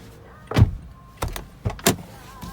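Door of a 2012 Toyota Camry SE opening, several short mechanical clicks and thumps of the latch and light door, close and separated by brief pauses.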